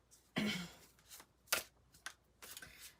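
Tarot cards are being shuffled by hand, in several quick riffling bursts separated by short pauses, close and fairly quiet.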